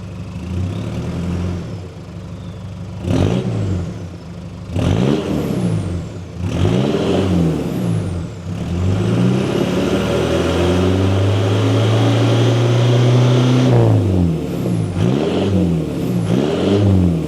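A Gen 3 Mitsubishi Pajero engine with a full 3-inch exhaust revs repeatedly from idle in quick rising blips, then holds one long sustained rev before a few more sharp bursts, loud and close.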